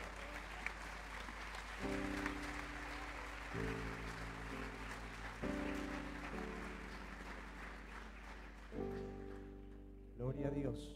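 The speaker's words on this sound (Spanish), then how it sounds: "Fuerte el aplauso." A church congregation claps at a service, a steady wash of applause heard faintly beneath sustained keyboard or organ chords that shift every couple of seconds, continuing throughout.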